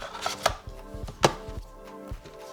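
Several small plastic clicks and clacks in sequence, with an irregular rhythm and close by, as a DJI Mavic Mini drone battery is pushed and snapped into a charger slot.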